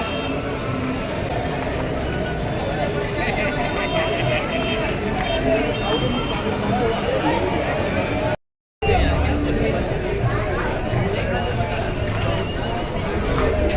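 Dense crowd chatter fills a busy Dadar market, a steady babble of many nearby voices with traffic and bustle underneath, briefly cut by a moment of silence.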